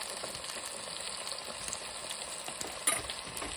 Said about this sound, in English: And hear that sizzle.